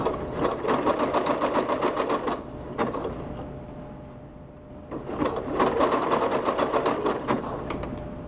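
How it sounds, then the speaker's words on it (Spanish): A sewing machine runs a zigzag stitch along the edge of cushion fabric in steady, loud mechanical bursts. It pauses briefly near the middle, then resumes stitching. "lo estoy cosiendo con zigzag"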